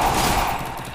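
Rapid burst of gunfire in a mobile battle-royale shooting game, dense, continuous shots filling the full second, loud and close, fading slightly toward the end with no voices.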